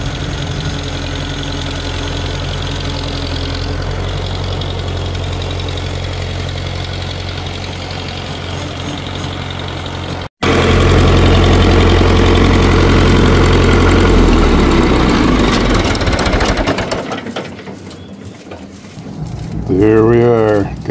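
A 1960 diesel tractor engine, started for the first time in over two months with a 5 ft brush mower attached, chugs steadily at close range, briefly cutting out, then running louder before easing down, with a voice speaking near the end.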